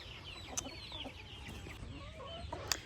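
Several chickens cluck and murmur nearby in a castle-style coop, with a few sharper clicks and knocks scattered through, against a low rumbling background and no speech.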